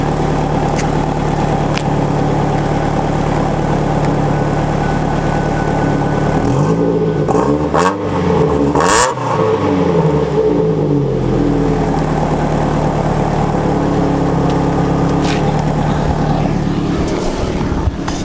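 A Ford ZX3 engine idles and revs through an exhaust fitted with a silencer, a steady low drone that swells in a throaty rev burst midway before settling back, close and loud with no talk.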